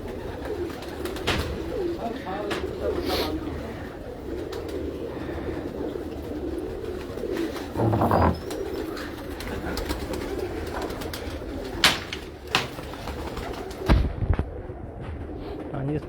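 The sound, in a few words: pigeons cooing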